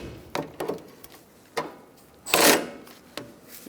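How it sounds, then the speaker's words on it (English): A battery ratchet snugs up sway bar link nuts on a 2002-2006 Honda CR-V during a lower control arm bushing job, giving short close whirring bursts and clicks in an irregular rhythm with one longer buzzing run. "We're going to snug up our sway bar link nuts by prying down on the bar and using my battery ratchet."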